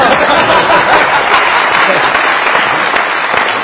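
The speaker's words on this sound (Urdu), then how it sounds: "تالیاں میرے لیے، تالیاں" Steady, dense applause fills a comedy talk show studio, a live audience clapping loudly and continuously for the full few seconds.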